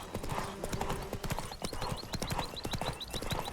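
Roach the horse galloping in The Witcher 3, a fast, steady clip-clop of hooves close by, with in-game sounds layered over it.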